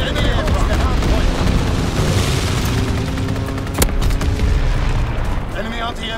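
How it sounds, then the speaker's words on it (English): Continuous anti-aircraft fire in the Call of Duty: WWII video game, a dense, steady barrage of booms and bursts filling the whole stretch, with one sharper crack near the middle and voices talking underneath. "Enemy anti-aircraft fire."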